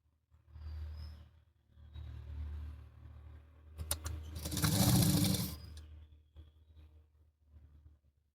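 A sewing machine runs in short bursts while stitching the tucks on a blouse. It whirs faintly, then rises into one louder, busier run near the middle before easing off, with no talk.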